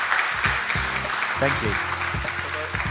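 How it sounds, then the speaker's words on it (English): Closing round of applause from an audience after an onstage conversation with an artist and writer, steady clapping heard beneath a voice speaking briefly over it. "Let's give him one more round of applause"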